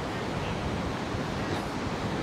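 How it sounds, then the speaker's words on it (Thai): Strong wind blows across a Thai beach lined with canvas loungers, a steady broad rushing roar mixed with surf, continuous and close to the microphone with no talking. "แต่ลมค่อนข้างแรงนะ"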